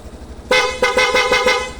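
A loud, bright Suzuki Access 125 scooter horn, set to its loud setting, honks in a quick series of short, sharp blasts, close by.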